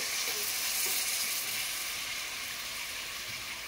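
Water goes into a hot pan of spiced bitter gourd and potato curry, giving a steady, loud hissing sizzle that holds evenly and eases only slightly over a few seconds.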